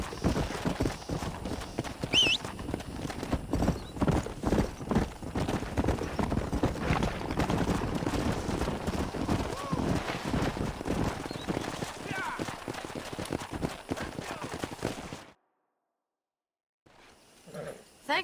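Horses in the Red Dead Redemption video game gallop with steady, dense clip-clop hooves and an occasional whinny, loud and continuous before cutting abruptly to silence, with a brief faint sound near the end.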